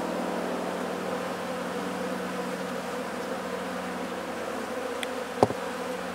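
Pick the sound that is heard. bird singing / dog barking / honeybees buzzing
honeybees buzzing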